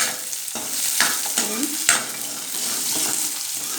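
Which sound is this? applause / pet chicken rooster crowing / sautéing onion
sautéing onion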